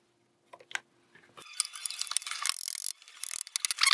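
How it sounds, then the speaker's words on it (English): Screws being tightened on a motor holder of a LibreFlip book scanner build with a new timing belt pulley: a ratcheting mechanical clicking starts after a few brief taps, growing into dense, close, repeated ratchet clicks with no talking. "now I am tightening the motor hold again"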